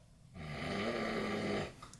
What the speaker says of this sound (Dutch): Ja, jij doet het snurken.